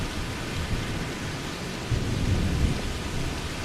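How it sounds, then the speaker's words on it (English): Steady rain hiss with a low rumble of thunder swelling midway in the video game VEIN, a continuous downpour heard around a vehicle, with no voices. "Am I getting rained on inside the vehicle? It appears so."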